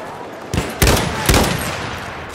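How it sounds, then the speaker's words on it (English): An enemy machine gun fires in a war video game, with three short, loud bursts of rapid shots against low background noise. "Enemy machine gun."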